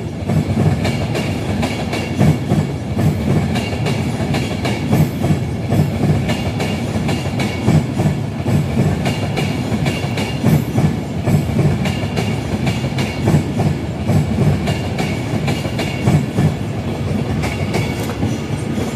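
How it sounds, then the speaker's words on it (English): An Avanti West Coast class 390 train on the London Euston to Glasgow Central route rolls past Carlisle, loud and close, with steady rhythmic clickety-clack from the wheels over rail joints throughout. "Avanti West Coast 390154 departed Carlisle 33 late, London Euston to Glasgow Central,"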